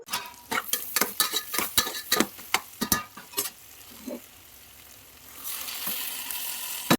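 Soybeans with onion fry in ghee over a high flame: a run of close, sharp stirring clacks against the pan, then a steady, loud sizzle alone.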